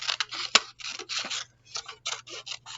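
Scissors snip through paper for an Easter bunny craft, a series of close, crisp cutting strokes with one sharp click partway through, then more steady snips after a brief pause.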